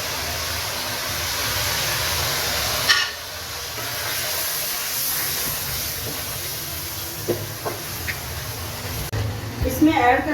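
Garlic sizzles in a hot pan while aloo gosht is being cooked, a steady close frying hiss running throughout with a few small clinks and stirring knocks near the end.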